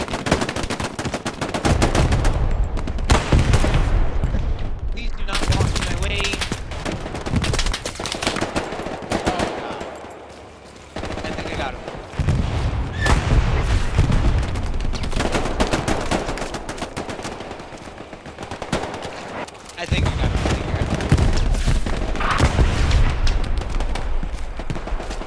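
Sustained gunfire in the WWII shooter Hell Let Loose, loud bursts of automatic and rifle fire rattling almost continuously, with a brief lull near the middle before heavy shooting resumes.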